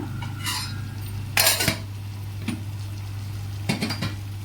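A spatula scrapes and clinks through a mushroom and brown rice pulao mixture in a pan, giving a few separate bursts of stirring over a steady background hum, with no talking.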